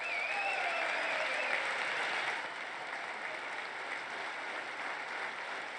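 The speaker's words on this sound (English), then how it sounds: "they clap and clap and clap" Republican lawmakers applaud during a Trump speech, a steady, broad roar of many hands clapping at once, heard somewhat distantly and easing slightly partway through.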